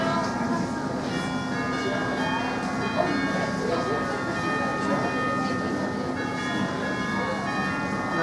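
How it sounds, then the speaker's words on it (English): Bell-like chimes ring out a steady melodic tune, sustained and resonant, heard from a distance over a hum of background noise. "I started hearing chimes ringing, and ringing in this really neat tune"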